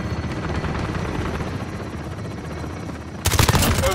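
A chopper gunner helicopter in Call of Duty Modern Warfare drones steadily with a rotor pulse, then a loud burst of rapid gunfire and explosions erupts near the end.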